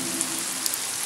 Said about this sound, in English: Pocoyo can use the rain to clean Loula.